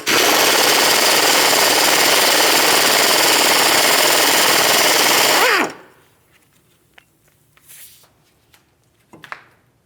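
A power tool, likely an impact wrench, rattles loudly and continuously for several seconds as it spins out the hub assembly mounting bolt on a Chevrolet Malibu, then stops, leaving faint clinks and handling noises.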